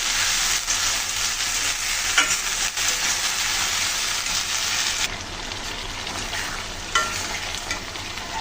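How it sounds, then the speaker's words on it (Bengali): Whole garam masala and a wet spice paste frying in a pan for a taro curry, a dense hissing sizzle with scraping stir strokes, the hiss easing partway through, close and without talk. "মশলা দিয়ে সুন্দর করে আমি কষিয়ে নেব।"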